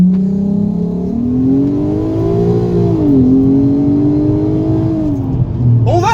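A Nissan R32, a four-wheel-drive car, holds a loud steady rev near 3000 rpm on launch control, the engine tone drifting slightly up and down before a brief rise at the end.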